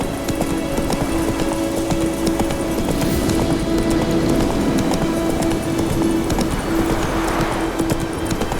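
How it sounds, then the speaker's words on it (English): Horse hooves gallop in a fantasy action video game, a rapid steady clip-clop rhythm running throughout over a continuous musical drone. "Run, Roach."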